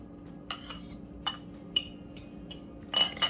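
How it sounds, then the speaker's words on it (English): A utensil clinks against a bowl while eggs are mixed into two pounds of ground beef, a series of sharp, close metallic taps spaced irregularly, ending in a quick flurry of clatter. "to that I'm going to add 2 eggs, but I'm going to just mix them up just a little bit"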